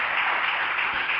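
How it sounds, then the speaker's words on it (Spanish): A church congregation applauds in praise, a dense, even wash of clapping that holds steady and fairly loud for the whole short stretch. "vamos a darle un aplauso al Señor."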